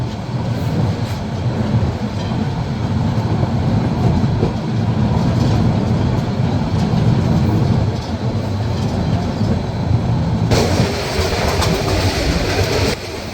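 Riding aboard the Burimari Express, 809, from Dhaka to Lalmonirhat as it runs through Shahid M. Monsur Ali railway station: a loud steady rumble of wheels and carriages, with a brighter rush of noise near the end.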